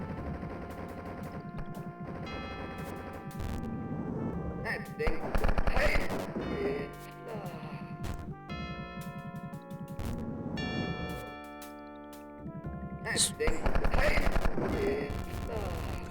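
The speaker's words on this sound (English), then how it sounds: "whenever I have the chain gun, I just want to like blast it just everywhere" Chain gun fire in the retro shooter Spear of Destiny, long rapid bursts of automatic shots that come and go, with brief pauses and a loud final stretch over the game's music.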